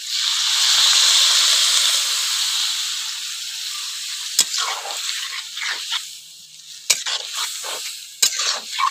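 Water is poured into pumpkin cooking with panch phoron in a hot pan, giving a loud burst of hissing sizzle that gradually dies down, followed by sharp clinks and scraping stirs of a utensil against the pan.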